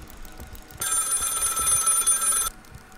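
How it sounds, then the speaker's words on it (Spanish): A telephone bell rings inside the Maid of Sker horror game: one loud, steady ring of nearly two seconds that starts and stops abruptly against a quiet background. "Suena el teléfono."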